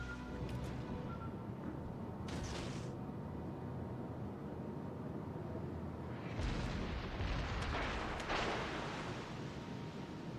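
In the naval game World of Warships: Legends, a torpedo strikes a ship, setting off deep rumbling explosions over a low, steady roar of engines and sea, with several sharp bursts close together.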